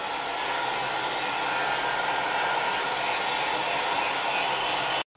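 A hair dryer on its lowest heat and wind speed dries a polymer clay crackle sheet, blowing a steady, close, breathy roar that cuts off abruptly near the end.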